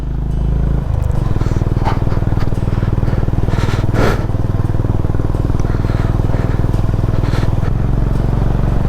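Motorcycle ridden on a mountain road in North East India at high altitude, its engine a loud continuous drone close to the mic with wind buffeting, rising slightly as the bike pulls along the whole time.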